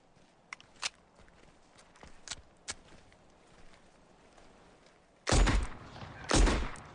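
Two loud, close gunshots from a Luger 9 mm automatic pistol burst out near the end, following a stretch of quieter thumps and light footstep-like knocks in an indoor setting.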